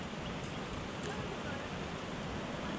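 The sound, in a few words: river water flowing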